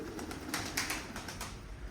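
Caged pigeons coo and rustle close by, with soft tapping and a steady background hum.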